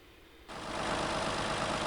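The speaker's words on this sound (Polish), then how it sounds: "Jest to dźwięk silnika Deutschfahrer." Deutz-Fahr tractor engine from Farming Simulator 18, a steady low rumbling drone that jumps louder after a quiet half-second start and then holds an even, continuous idle-like roar.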